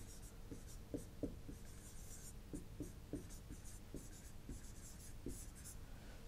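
Chalk or marker writing out equations on a board in an electronics lecture, a string of faint scratchy strokes and taps in an irregular rhythm, heard close but quietly with no talking.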